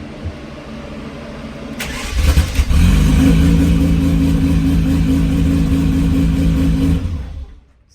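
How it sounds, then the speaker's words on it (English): A Ferrari Testarossa cranks and fires up, catching with a sharp burst, then settling into a loud, steady, rumbling idle with slight revs before cutting off abruptly. "Car fires up, I shall show you."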